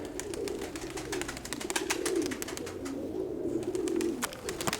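A pigeon coos in repeated low, rolling phrases close by, over a sharp background crackle.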